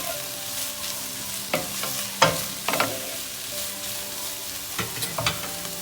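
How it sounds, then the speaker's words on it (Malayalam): Egg being stirred into a sizzling fried rice mixture in a pan, restaurant-style mixed fried rice, with a steady fry hiss broken by several sharp utensil scrapes and clacks, close up. "ഇനി നമുക്ക് അവസാനമായിട്ട് മുട്ട ചേർത്ത് കൊടുക്കാം. ഇനി എല്ലാം നന്നായിട്ടൊന്ന് ഇളക്കി യോജിപ്പിക്കണം."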